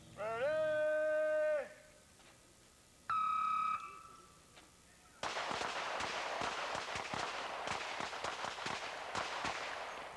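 Pistol shots at a shooting match, a 1983 competition, fired weak hand only: two electronic start beeps, then a rapid string of sharp cracks with quick follow-ups, fairly close and clear against quiet background.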